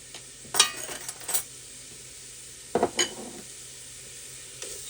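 Minced garlic, about three teaspoons, cooking in a pot for chicken gnocchi soup, giving a steady low sizzle with two bursts of spoon stirring and scraping, close and without voices.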